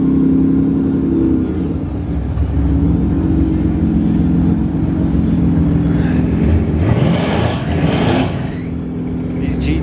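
Nissan GT-R cars accelerate at a drag strip test-and-tune night, a loud continuous engine drone with a rising rev sweep near the end, heard close and steady throughout.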